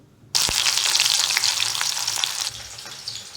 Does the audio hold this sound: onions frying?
yes